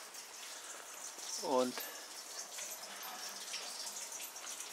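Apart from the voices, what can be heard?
water-driven mill wheel at an inn in Dieblich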